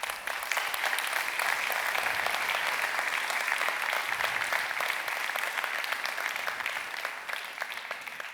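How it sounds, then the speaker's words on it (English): Audience applause for competition finalists at an opening ceremony, a dense and steady sustained clapping from a large crowd that holds throughout and eases slightly toward the end. "please, a round of applause for these finalists"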